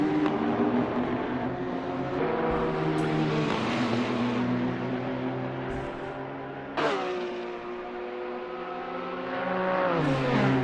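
A Nissan and a Ferrari race car chase each other at Daytona Raceway in a racing video game, their engines droning steadily with rising and falling pitch as they shift and accelerate, loud and continuous with no talk.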